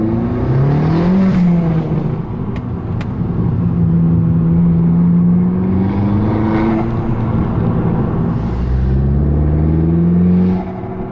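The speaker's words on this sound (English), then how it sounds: "I really like the sound of this exhaust." A 250 bhp Abarth 500 engine with an aftermarket Powermotive valved exhaust drones loudly and steadily under acceleration, its exhaust note rising and falling in pitch with a smooth, throaty tone throughout.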